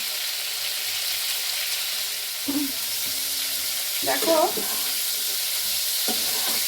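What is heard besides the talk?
cauliflower frying and being stirred in pan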